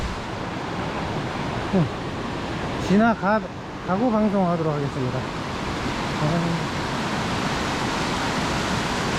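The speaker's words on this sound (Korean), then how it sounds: "여기 물소리가 엄청 크네요" Rain-swollen mountain stream in a valley on Bukhansan, a loud continuous rushing roar of water that fills the whole clip, with someone talking over it for a few seconds.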